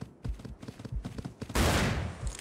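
A rifle fires in the hunting video game Cabela's Dangerous Hunts, one loud close shot with a short trailing roar, preceded by scattered soft game thumps and clicks.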